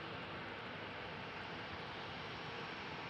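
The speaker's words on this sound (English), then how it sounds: "And the 737 going to Stockholm is coming this way, doing a turn and burn rolling start in fact." A Boeing 737 jet taking off from Amsterdam Schiphol Airport on a rolling start gives off a steady, broad engine roar, distant and even throughout.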